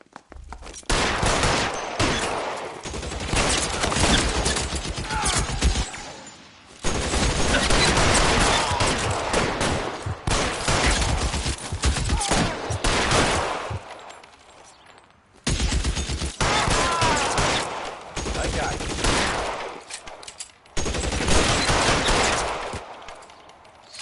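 Heavy gunfire in the video game L.A. Noire, a dense fusillade of overlapping shots in long sustained bursts, loud and close, with brief pauses between volleys and no talk.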